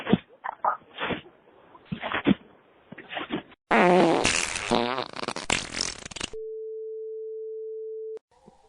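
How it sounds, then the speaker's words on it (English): A comedic fart noise sound effect plays loudly after a stretch of talk, a series of sputtering, buzzing blasts followed by a long steady tone like a busy or dial signal. "It better not be fart noises"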